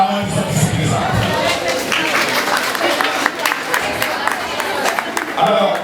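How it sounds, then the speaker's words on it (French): At a graduation ceremony, an audience applauds for the mothers present, a sustained patter of clapping and crowd noise, with voices talking near the start and end. "Alors je vais vous demander d'applaudir pour toutes les mamans qui sont ici présentes"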